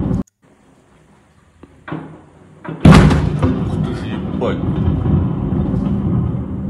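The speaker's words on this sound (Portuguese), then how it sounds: "dá para ver uma explosão muito grande aqui, vamos ouvir aqui isso" A sudden heavy boom bursts out after near silence at the port of Sevastopol, followed by a sustained rumbling roar and scattered crackles, with voices faint in the background.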